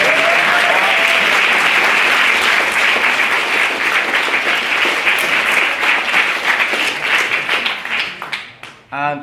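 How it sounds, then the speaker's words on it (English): A sustained round of loud applause from a debate audience in a packed hall, steady and dense throughout before tapering off sharply into a few final claps at the end. "Can we have another massive round of applause for Katie?"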